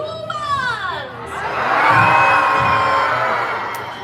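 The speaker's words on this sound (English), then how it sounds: "the proper response is to throw your hands up in the air and scream like this" A crowd of people at a Disney show in the Magic Kingdom at Walt Disney World screams and cheers together, a loud sustained mass of voices swelling and then slowly fading, with some children's shrieks in the mix.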